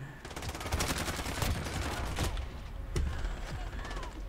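A light machine gun fires in a video game in long, rapid bursts, loud and continuous, with a brief pause near the middle and a few mechanical clicks between volleys.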